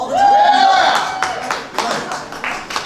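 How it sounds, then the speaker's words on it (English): A sustained tone rises and bends at the start, then audience members at a Mozart-night concert with an orchestra break into loose, uneven clapping, with sparse claps scattered rather than a full ovation. "You can clap all you want, all the time."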